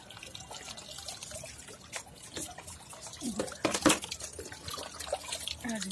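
Water poured onto household plants, an uneven splashing and dripping with a louder gush midway, fairly close and moderate in level.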